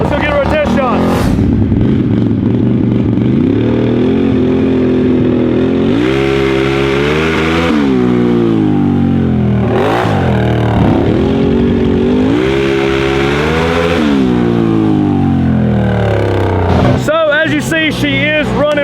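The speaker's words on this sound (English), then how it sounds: "Let's go get us a dry pull out here in the field to make sure the nitrous is working correctly" A drag car engine on a nitrous test pull in an open field roars loud and close, revving up and down in repeated sweeping surges with harsh, rising pitch over nearly twenty seconds.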